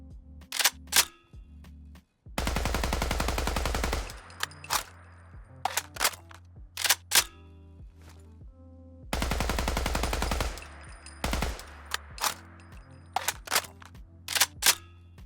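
A retro rifle in a modded Fallout 4 game fires loud sharp shots, single cracks plus two long rapid automatic bursts, with mechanical clicks of handling and reloading between them, no talk.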